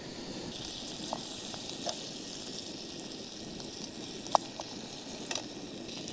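Food fries in oil in a pan on a camping stove, giving a steady soft hiss and crackle broken by a few faint pops and clicks.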